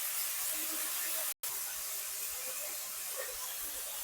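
Green chillies, dried red chillies and curry leaves frying in oil for a tomato and ridge gourd chutney, a steady soft sizzling hiss heard close and continuous, with one brief dropout.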